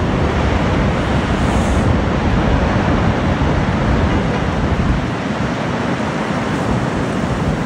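Massive offshore waves surge onto a coastal road in Silla, Italy, making a steady, roaring, wind-swept rush of water. The loud wash continues without a break and no voices are heard.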